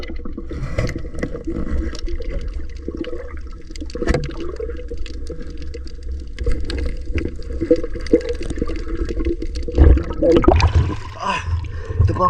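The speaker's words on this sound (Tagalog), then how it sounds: "malakas yung alon" Strong sea waves at night slosh and slap against a small fishing boat in irregular heavy bursts, with a deep rumbling swell underneath and a loud splash near the end.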